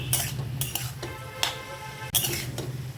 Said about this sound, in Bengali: এবারে থোটটার সঙ্গে ভালোভাবে মিলিয়ে নেব